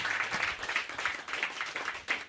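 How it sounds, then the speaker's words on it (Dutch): An audience at a live queer cinema event claps, with a fairly quiet, steady patter of hands throughout. "Dus applaus voor Job."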